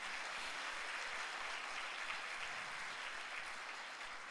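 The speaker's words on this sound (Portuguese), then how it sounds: "Dê uma salva de palmas ao Senhor." A church congregation claps together during a Sunday service, producing a dense, even wash of applause that holds steady throughout without pause.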